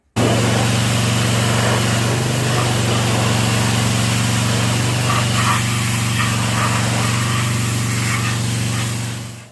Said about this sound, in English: next thing I'm going to end up doing here is hitting it with the pressure washer